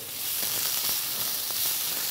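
Food fries in a pan with a steady, close hiss of sizzling fat, a dense crackle that holds evenly throughout with faint occasional pops and no talking.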